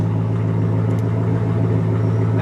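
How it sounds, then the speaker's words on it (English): A turbocharged Ford Mustang engine runs just after its first start, its aftermarket exhaust giving a loud, steady, deep idle rumble close to the microphone with no talk. "That exhaust is so sick though."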